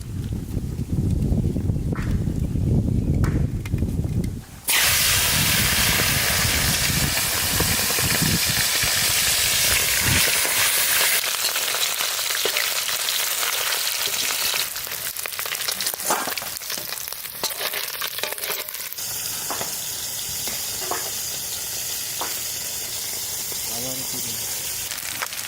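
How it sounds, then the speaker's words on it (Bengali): Tangra fish frying in hot mustard oil in a kadai, a loud continuous sizzle and hiss that shifts and settles over time, with occasional clatter and voices in the background. "এখন ট্যাংরা মাছ ভাজবো"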